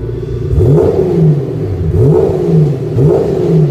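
The 3.2-litre twin-turbo engine of a Maserati Shamal, rated at 326 horsepower with a six-speed manual gearbox and rear-wheel drive, revs loud and close in three rising surges with a deep rumble between them, with no talking.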